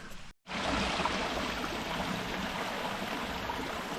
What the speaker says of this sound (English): waterfalls, little waterfalls